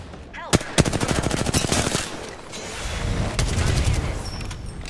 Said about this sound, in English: Hostile close. Taking fire.